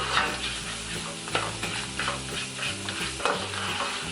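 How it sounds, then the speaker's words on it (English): Onion frying and being stirred in a pan over medium-high heat for garlic shrimp, a steady close sizzle with scraping spoon strokes at a loose rhythm, no talking. "And then you just let that cook for about another 10 minutes so the entire onion can be soft and glazy."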